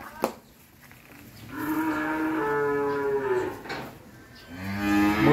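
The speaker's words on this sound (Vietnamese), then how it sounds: "đây con bò bê" Cattle on a cattle farm moo close by, with one long drawn-out low call followed by the start of another, over quiet surroundings.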